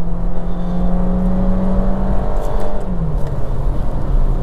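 A 2024 Skoda Slavia sedan with the 1.5 engine and DSG gearbox accelerates hard, its engine note climbing steadily and loudly, then shifting and dropping briefly before rising again, heard without any talk.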